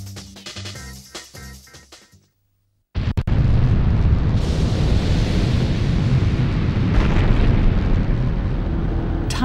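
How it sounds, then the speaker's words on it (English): A deep cinematic explosion erupts after a brief musical passage and a moment of silence, then a loud, sustained roaring rumble carries on for several seconds, representing the big bang at the birth of the universe. "Time and space began with a big bang"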